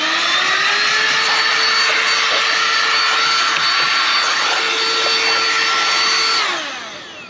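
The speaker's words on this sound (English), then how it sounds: "We're gonna use this vacuum to clean up a lot of the dust." A vacuum cleaner sucking up dust, droning loud and close with a steady high whine, then winding down near the end.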